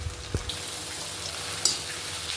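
Soft sizzling of flattened rice (poha) frying in hot oil over a high gas flame, a quiet steady hiss broken by a brief clink near the start and a sharp tick later.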